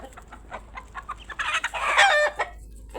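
Hens clucking close by in a bursty run of calls, growing louder and denser toward the middle, with no talk over them.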